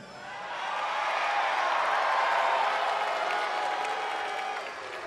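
A wrestling arena crowd at a WWE SmackDown Live show roars and applauds in a steady, distant wash of cheering that swells and holds for several seconds.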